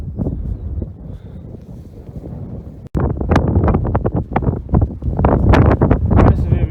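Gusty wind buffets the microphone along a hiking trail in the Netherlands near Valkenburg, a low rumbling roar that grows stronger after a brief sharp knock, steady and close throughout.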